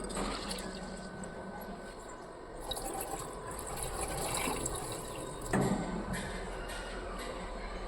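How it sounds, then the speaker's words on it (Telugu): Soaked jowar (sorghum) grains being rinsed in fresh water in a kitchen, with a steady close wash of running and sloshing water through the whole stretch and a brief louder splash near the end. "ఒకసారి ఫ్రెష్ వాటర్తో మళ్ళీ వాష్ చేసేసుకుందాము."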